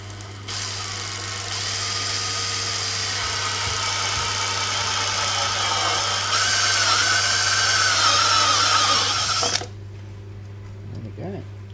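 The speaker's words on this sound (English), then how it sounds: "Grab the step drill." A step drill bores a roughly 22mm hole through an electronics enclosure, a steady loud whining grind lasting about nine seconds over a constant low hum, then stopping abruptly into quiet with a few faint clicks.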